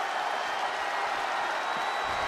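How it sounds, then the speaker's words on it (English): A WWE 2K22 video game arena crowd during a Hell in a Cell match, a steady, dense roar of cheering and noise filling the whole stretch with no break. "What a raucous crowd here tonight"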